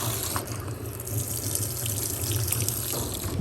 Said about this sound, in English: I'm going to go ahead and drop my dingy white towels on in here